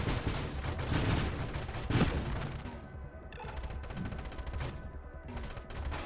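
A deployed turret in the video game Nova Drift fires rapid automatic bursts, a dense continuous crackle of shots and small explosions, fairly loud and steady with no talking.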